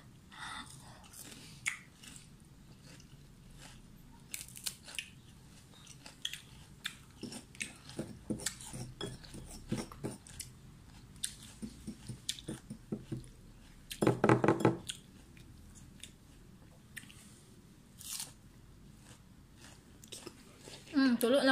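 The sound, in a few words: chewing and eating tambis water apple fruit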